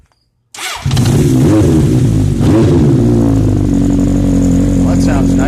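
A 1980 Honda CB750K motorcycle fitted with a Delkevic exhaust fires up after a short silence and settles into a loud, steady idle with occasional blips of the throttle, running close by.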